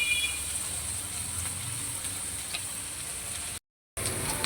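Onions frying in a little oil in a pan for a Bengali do pyaza, a steady soft sizzle with faint crackles, close and continuous, briefly cut out near the end.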